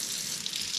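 Warm water runs from a kitchen sink faucet into a large sink, a steady, close hiss and splash with no pauses over a brief moment.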